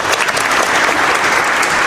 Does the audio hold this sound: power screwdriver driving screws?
no